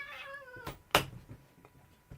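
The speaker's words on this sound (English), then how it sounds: "I love these cats today." A cat meows several times in a row, clear harmonic cries near the mic, followed by a few knocks and thumps in a quiet room.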